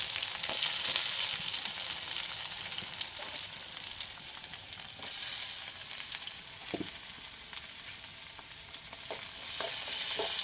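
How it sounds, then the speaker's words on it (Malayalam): Steady, hissing sizzle of shallots frying in hot oil, continuous and fairly quiet, with an occasional faint pop or tap. "ചെറിയ ഉള്ളി നല്ല മൊരിഞ്ഞ് വരണം"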